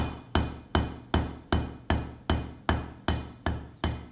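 A blacksmith hammers hot metal on an anvil while forging a spiral: eleven sharp, evenly spaced ringing strikes about every 0.4 seconds, close and loud, with no talk.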